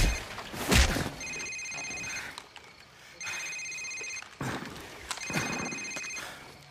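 A cell phone rings in Call of Duty 4: Modern Warfare, with repeated electronic ring bursts over a noisy in-game background and a faint voice underneath.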